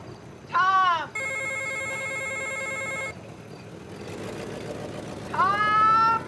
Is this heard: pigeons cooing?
no